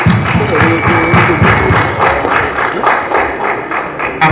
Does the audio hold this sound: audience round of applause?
yes